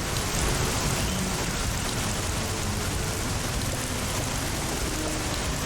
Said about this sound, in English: All the rain noise? Yeah, this game's pretty loud.